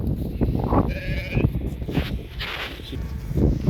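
Sheep from a Dorper and Katahdin flock bleat repeatedly at close range on a farm, several overlapping calls spread across the few seconds with some background rustle.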